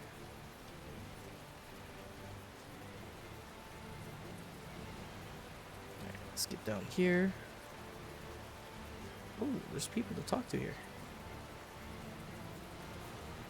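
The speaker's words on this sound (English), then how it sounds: "This rain is something else." Heavy rain pours in the video game Tales of Zestiria as a steady, even hiss throughout. A voice speaks briefly over the downpour.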